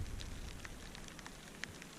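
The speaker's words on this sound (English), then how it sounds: "7 months I've been in Chile and this is the first bit of rain." Light rain patters steadily on a tarpaulin at an off-grid cabin building site in the woods in Chile, a soft continuous hiss scattered with small distinct drop ticks and no voices.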